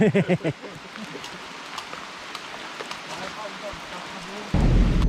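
A thunderstorm with steady rain on a mountain off-road trail. A brief voice comes first, then rainfall with faint rumbles of thunder, and a louder burst near the end.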